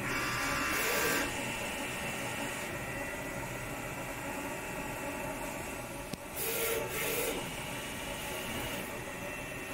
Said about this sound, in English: the printer starts to print out a vertical calibration picture out